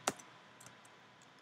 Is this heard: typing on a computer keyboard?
yes